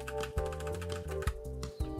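Keys on a $30 METOO mechanical keyboard being pressed, several distinct clacky presses in an irregular rhythm, close and moderately loud over a steady electronic hum, no talking.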